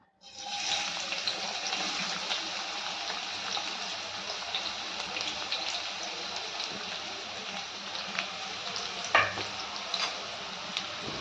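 Finely chopped onion sautéing in two ladles of hot oil for a spicy Marathi shev bhaji, a steady close sizzle with occasional stirring scrapes and a sharper clink near the end.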